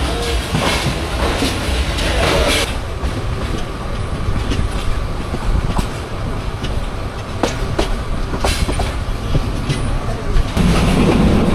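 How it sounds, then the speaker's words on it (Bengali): The Kalni Express races along the rails toward Sylhet, a loud, continuous rumble with rattling wagons and intermittent clacks from the wheels, heard from on board without speech. "দুর্দান্ত গতি নিয়ে ছুটে চলছে কালনী এক্সপ্রেস সিলেটের দিকে"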